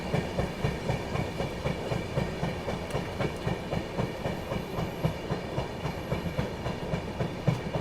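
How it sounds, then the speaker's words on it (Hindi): The Jhelum Express passes on a parallel track beside the moving Dibrugarh Rajdhani Express, its wheels beating a steady, rhythmic clickety-clack that stays close and even throughout. "निकल गई झेलम एक्सप्रेस।"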